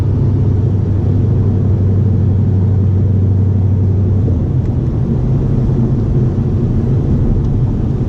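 Loud, continuous low engine drone of a 2012 Ford Mustang Boss 302 while driving, heavy and steady with a slight easing of pitch partway through.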